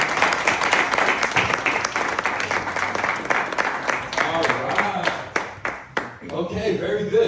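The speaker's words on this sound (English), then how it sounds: "give a warm welcome, a round of applause to my man," An indoor audience gives a speaker a warm round of applause, with loud, dense clapping that thins out toward the end as a voice starts talking.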